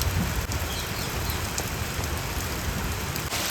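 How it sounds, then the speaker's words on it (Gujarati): Heavy rain pours down steadily in a Botad village setting, a dense, continuous hiss of falling water that stays loud and even throughout with no voices. "મિત્રો કેવો મસ્ત મજાનો વરસાદ પડે જોરદાર"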